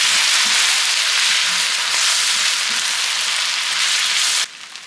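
Steak bites sear in butter with garlic and seasonings, making a loud, dense, crackling sizzle right up close that runs steadily and then drops sharply to a quieter hiss near the end, with no speech.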